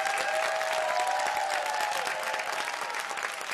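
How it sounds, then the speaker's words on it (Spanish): Studio audience applause for a contestant on a TV quiz show, a steady wash of many hands clapping at moderate level, with a faint held tone beneath and slight fading toward the end. "creo que merece un aplauso, por favor, para Roberto"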